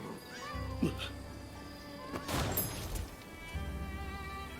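A cat meows once, briefly and fairly close, in a samurai video game, over low droning game ambience and a burst of rustling noise.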